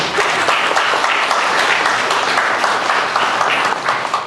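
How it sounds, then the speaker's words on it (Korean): Church audience applauds a choir of about fifty singers, thick continuous clapping from a large crowd throughout, loud and close with no talk. "우리 성가대 모든 분들이 한번 박수하시면 좋겠어요"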